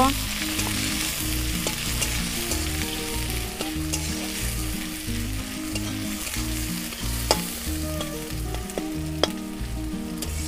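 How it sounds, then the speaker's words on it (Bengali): Raw onion, added along with tomato, sizzles steadily in a pan while being stirred, giving a continuous close frying hiss broken by scraping and clinking of the utensil, with no talking. "দিয়ে দেবো কাঁচা পেঁয়াজ, সুন্দর করে নেড়ে চেড়ে নেব।"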